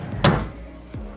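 A drawer on a baby's diaper cart slides open or shut with a short scraping thud, followed by a second fainter knock a moment later, close by in a quiet room.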